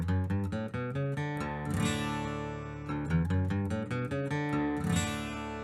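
Acoustic guitar in DADGAD tuning plays quick plucked bass runs climbing through the scale, each phrase closing on a ringing strummed open chord, heard clearly and alone with no talking.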